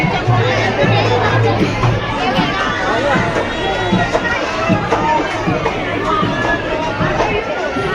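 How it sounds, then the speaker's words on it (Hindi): Dense crowd of people gathered at a temple in Gurgaon, a continuous loud hubbub of many overlapping voices, shouts and footsteps close around, with no pause across the whole stretch. "जो ऊपर से आ रहे हैं वहाँ तो देखो कितनी ज्यादा भीड़ है"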